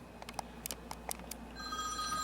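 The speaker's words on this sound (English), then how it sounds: "Oh, the phone is ringing." A telephone rings in a hotel room, several short bursts of bright electronic ringing close by, followed by a steadier sustained tone, with no talk over it.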